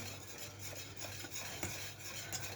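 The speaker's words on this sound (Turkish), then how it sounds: "Hemen hızlı bir şekilde karıştırıyorum." Steady scraping and swishing of a spoon quickly stirring a thick cream cheese tiramisu mixture in a pot, continuous and close, with faint utensil clinks.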